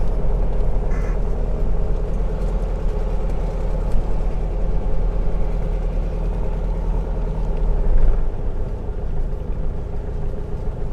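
A 1967 VW Karmann Ghia pulls back up into a driveway, its engine a steady low drone heard from inside the car, close and continuous with slight variation near the end.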